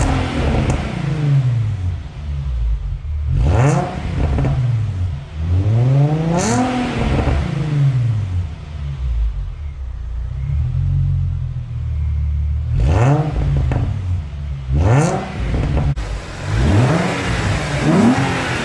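Infiniti G35 with a new intake and exhaust revving after warming up: a steady idle rumble broken by several sharp rising revs that fall back, loud and close, with no talking.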